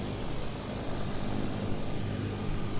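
Steady drone of an Air Force cargo plane's engines in Microsoft Flight Simulator, a constant, even roar holding throughout with no talk.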